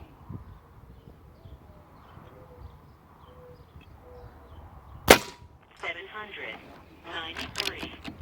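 A single sharp report from an airgun firing a pellet at long range, a crisp crack standing out from quiet outdoor ambience, followed by voices talking.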